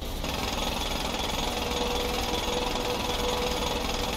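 A jackhammer pounds steadily and loudly in Grand Theft Auto V, with a dense, unbroken hammering roar near an aircraft. No one talks.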